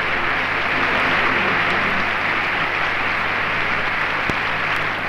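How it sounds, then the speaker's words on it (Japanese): A large stadium crowd at the Tokyo Olympics closing ceremony breaks into applause as the Olympic flame dies down, a steady, distant wash of clapping in an old, hissy recording. "場内から思わず拍手が起こりました。"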